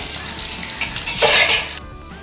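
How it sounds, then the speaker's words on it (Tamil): Sankara fish (red snapper) sizzles vigorously in hot oil in a pan, a loud continuous hiss that swells briefly before cutting off abruptly. "இங்கே மீன் வறுத்துட்ருக்கேன்"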